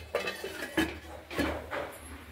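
A pot of radish and bori ghonto gets stirred and covered, giving a few close metallic clanks and scrapes of a utensil and lid against the pot over a low background.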